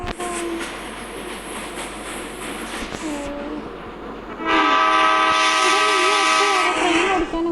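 A passenger train rumbles along, and partway through its horn blows a loud, sustained, close blast that carries on to the end.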